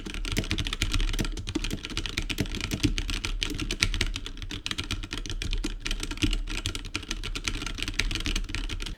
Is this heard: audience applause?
no